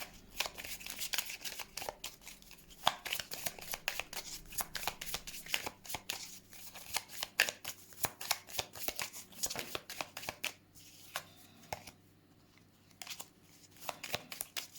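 Tarot cards being shuffled for a reading, a rapid run of soft riffling flicks and slaps close up, pausing briefly near the end before resuming, with no voices.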